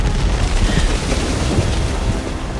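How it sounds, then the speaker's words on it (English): Explosions in the video game Dead Space 3 make a continuous, loud, rumbling roar of booming blasts and debris that hold steady without break. "Ah, explosions!"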